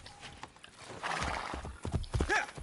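In Assassin's Creed Brotherhood, a horse's hooves clip-clop in a quick rhythm, followed by a whinnying neigh near the end, close and moderately loud.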